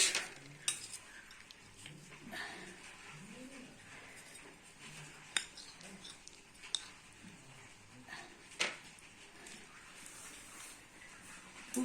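A meat curry dinner is dished onto plates for a winter night: faint, scattered clinks of a serving spoon against metal over a quiet room, with birds cooing and chirping in the background.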